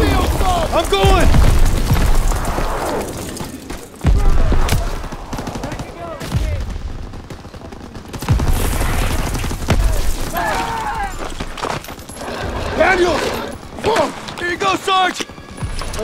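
Gunfire and explosive booms in a Call of Duty WWII battle, with heavy bursts and thuds scattered across loud, busy combat mixed with shouted voices and soldiers talking throughout.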